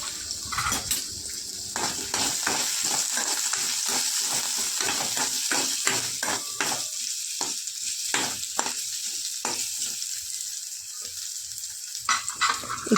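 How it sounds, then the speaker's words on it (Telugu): Ginger pieces frying in a spoonful of oil in a kadai, a loud continuous sizzle broken by repeated scraping stirs and clinks of the spatula against the pan. "అల్లం ముక్కల్ని కడాయిలో వేసి 1 స్పూన్ ఆయిల్ వేసి ఫ్రై చేస్తున్నాను"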